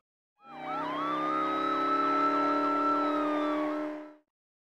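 Police car siren in the 1999 PC preschool game Blinky Bill's Play & Learn, a clean wailing yelp cycling rapidly up and down for about four seconds, alone with no talk.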